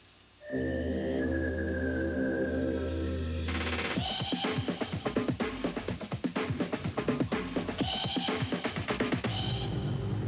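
An Oldsmobile Alero's engine revs up and accelerates over a musical score, the engine surging in with rapid bursts of sound after a calm melodic opening.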